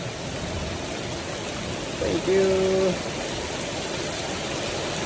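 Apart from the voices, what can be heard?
heavy rain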